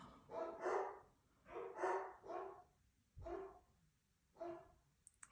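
A speaker's pet dogs barking indoors, a series of loud, close barks in short bursts of one to three with brief pauses and a breathy huff between, no talking.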